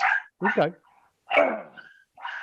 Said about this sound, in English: I apologize for the incessant dog barking.